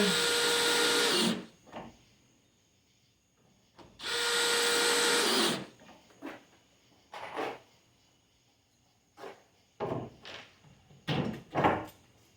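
A power drill drives screws into a wooden bookcase cabinet in a workshop, two loud whirring bursts of about a second each, followed by a scatter of shorter knocks and clatters as parts are handled nearby.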